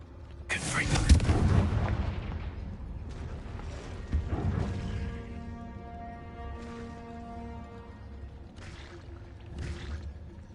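Confringo fire-blast spell in Hogwarts Legacy on PS5, a loud booming explosion with a rumbling tail, then smaller blasts and magical shimmering tones fading away.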